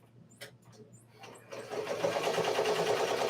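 A Ricoma MT 1501 embroidery machine stitches out a shirt, starting after a moment of quiet speech-like sounds and then running steadily with a dense, rapid mechanical whirr and clatter, fairly close and loud.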